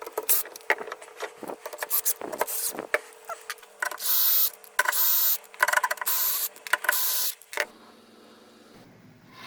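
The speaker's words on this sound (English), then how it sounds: "first I need to lift up this spindle" A CNC router spindle is lifted along its ball screw mechanism, close rubbing and whirring mechanical strokes in bursts, including sustained loud runs midway, followed by a quieter low hum at the end.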